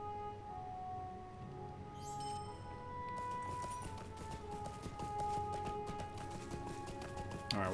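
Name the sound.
horse hooves clip-clopping in video game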